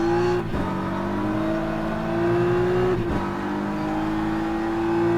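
A GT3 race car engine in rFactor 2, racing a Bugatti at Le Mans, drones steadily at high revs with a strong harmonic whine, briefly dipping twice as the car shifts gears, loud and close with no talk.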